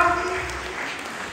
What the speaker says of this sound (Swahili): Tupigie Abigail makofi